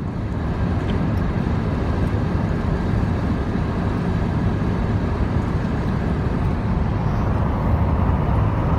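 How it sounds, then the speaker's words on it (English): A car drives on snow-covered roads, giving a steady loud low rumble of engine and tire noise heard from inside the cabin with no break. "Blake's driving on the snow-covered roads for the first time."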